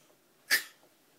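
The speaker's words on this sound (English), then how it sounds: "Cough, cough, sneeze." One short, sharp sneeze, close and fairly loud, bursts out of near silence and fades quickly. It sounds like it could come from a small animal.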